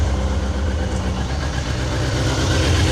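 A motorbike engine idles steadily nearby, a deep continuous low rumble with no talk over it; it is an older sportsbike without ABS or traction control.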